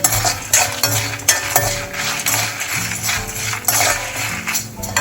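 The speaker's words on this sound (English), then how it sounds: "We need to give some time to saute this chana dal and dhania along with the red chili." Chana dal, coriander seeds and red chili sauté in a pan for a Tamil Nadu dish, a loud close sizzle broken by repeated stirring clinks and scrapes of a utensil against the pan.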